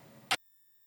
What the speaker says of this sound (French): Une notification de plus.